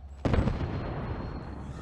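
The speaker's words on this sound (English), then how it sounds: "Oh, there's an explosion." An explosion in the video game Fallout bursts suddenly and loudly, a heavy boom followed by a long rumbling decay.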